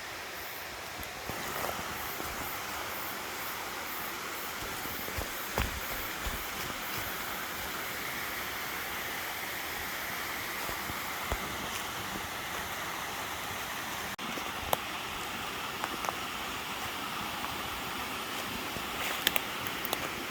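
A river flowing beside a mountain camp in Korea, a steady broad rushing wash of water that stays even and close throughout, with a few faint clicks on top.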